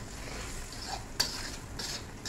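Tomatoes frying in a pan with oil as they are stirred, for a taro, bean seed and fish tomato curry; a soft, steady sizzle runs throughout, with a brief sharp scrape of a utensil near the middle and faint clinks.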